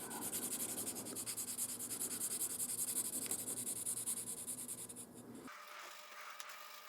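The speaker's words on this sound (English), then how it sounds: "So just take your pencil and apply the graphite." A pencil rubs graphite onto a part of a wooden steam engine, a close, steady scratchy back-and-forth scribbling that stops abruptly near the end, with no voices.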